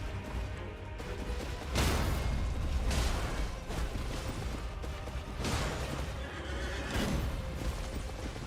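Horse in the video game Elden Ring, several loud neighs and whinnies at intervals, close and prominent with little else around them.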